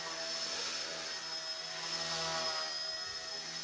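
A model helicopter running steadily with the throttle set at 65, a loud continuous turbine-like whine and rotor drone held at an even pitch for the whole stretch, with no voices.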